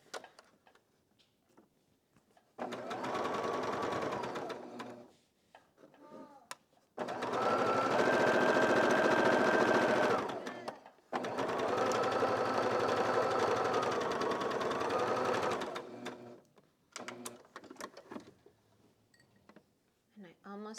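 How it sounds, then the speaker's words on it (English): Sewing machine stitching quilt fabric pieces, with three long close bursts of rapid mechanical whirring separated by pauses and quiet speech, the machine slowing and speeding back up between runs. "I'm just gonna slow down so that my fabric doesn't jerk. And then I can speed back up again."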